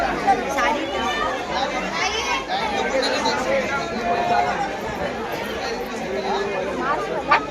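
Dense crowd of pilgrims at Ekvira temple: continuous overlapping chatter and babble of many voices nearby, with footsteps and movement mixed in, loud and steady throughout.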